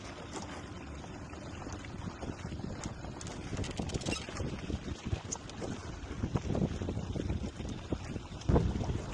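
A motorboat engine runs steadily as the boat moves slowly across a lake in the evening. The broadband drone holds up close throughout, with wind buffeting the microphone and a brief bump near the end.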